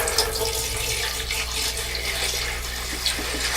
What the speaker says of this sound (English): And then for the water, I'm going to go ahead and add, pretty much just going to guess on the water.